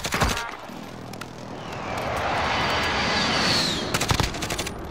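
Kill streak strike in a video game: bursts of rapid automatic gunfire open and close the moment, with a roaring aircraft-like sweep swelling loudly in between.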